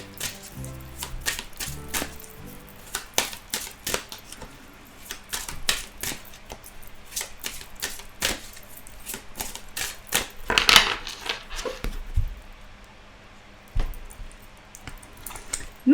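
Tarot cards being shuffled by hand, a steady run of soft, close, crisp card flicks and taps in an uneven rhythm, with no talking.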